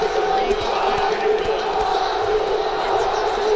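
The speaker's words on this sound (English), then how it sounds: "Crowd chanting for Johnny Hendricks here." Arena crowd noise in a UFC 2 video game welterweight bout, a steady dense roar of voices chanting for fighter Johnny Hendricks, continuous and loud throughout.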